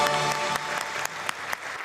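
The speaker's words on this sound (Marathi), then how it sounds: "आज मी तुझ्यासाठी उभं राहून टाळ्या वाजवतो" Brisk clapping after a comedy skit performance, a dense close burst of applause lasting under two seconds, with a few sharper individual claps standing out as it thins.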